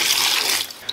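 Tap water runs in a brief close splash while yellow chili peppers are being washed, fading out quickly after a fraction of a second.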